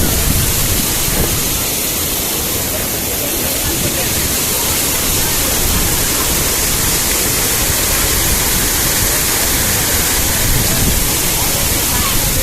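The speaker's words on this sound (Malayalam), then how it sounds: "മുകളിലെത്തി വാട്ടർഫോൾസ് ഉണ്ട്." A waterfall at the top of a climb at Godchinmalki Falls near Belgaum roars as a steady, dense broadband rush of falling water, loud and unbroken throughout.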